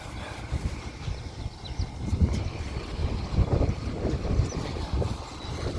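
Gusty wind rumbles and buffets the microphone in an outdoor zucchini garden, a continuous low roar rising and falling in strength, with no voices.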